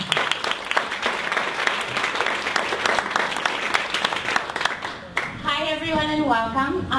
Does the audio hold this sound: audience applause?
yes